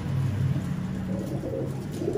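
A Teddy Qasoori golden pigeon, a Salara Teddy held in hand, coos in low, repeated rolling notes, steady and close, with no voices.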